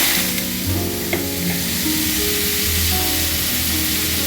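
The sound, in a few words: flat beans frying in hot oil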